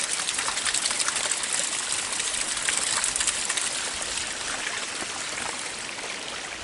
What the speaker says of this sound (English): This water is so clean. It is coming from underground.